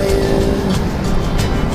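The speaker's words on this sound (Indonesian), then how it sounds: "Ada bis." A bus passes on a road on a touring trip from Jakarta to Bandung, a loud steady engine and tire roar that stays close throughout.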